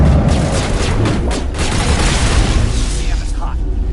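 Gunfire in the sci-fi game Mass Effect, rapid bursts of shots and booming impacts in a dense firefight, loud and continuous with voices shouting amid the shooting.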